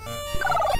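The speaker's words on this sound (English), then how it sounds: "Nasty crow." Chiptune crow cry from the NES game Dr. Jekyll and Mr. Hyde, a short, bright, warbling squawk of stacked buzzy tones lasting under a second, with faint game music beneath.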